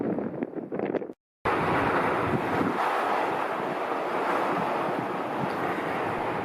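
Strong wind buffets the microphone on a misty Dartmoor tor, a steady loud roar with a few gusty bursts before a brief dropout, then continuous rushing noise with no voices.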